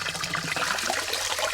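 Cold water runs steadily from a public fountain, a continuous close splashing trickle with no pause.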